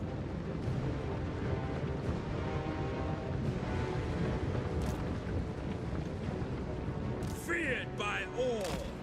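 Ranged units fire in a Total War: Warhammer battle, a constant dense roar of volleys, impacts and rumbling explosions with no clear gaps. Voices speak under the noise, and a few brighter effect sounds cut through near the end.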